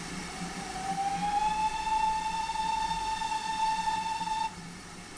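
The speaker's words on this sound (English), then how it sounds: "Let's test the whistles." A single long steam whistle blast from an NKP 2014 steam locomotive in a train simulator game, a clear sustained chime tone that sounds for about four seconds and then cuts off over background rumble.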